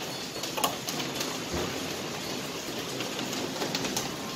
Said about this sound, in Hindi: और तेज बारिश हो रही है।